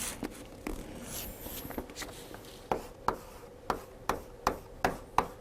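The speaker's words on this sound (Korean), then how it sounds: "이렇게 한자를 좀 써볼게요" Chinese characters being written by hand, close up, with faint scratchy pen strokes that give way to a run of sharp, evenly spaced taps toward the end.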